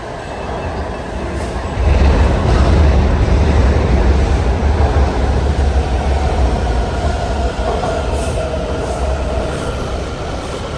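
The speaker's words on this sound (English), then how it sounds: "And just like that, there is my train." A Washington DC Metro train rolls into the station with a deep rumble that swells loud after a moment and then stays steady, with faint wheel squeals.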